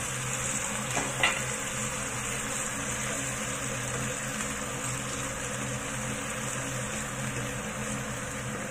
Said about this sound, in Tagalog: i-fry lang natin yan hanggang sa maluto yung asparagus